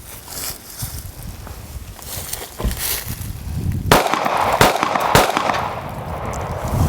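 Several loud, sharp pistol shots from an HK VP9 firing 147 grain full metal jacket rounds into a cinder block crack out in a rapid sequence at an outdoor range.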